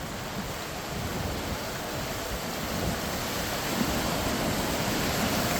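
Green Creek flows steadily past a small bridge, a dense, even rush of water that stays constant and fairly loud throughout, with no voices over it.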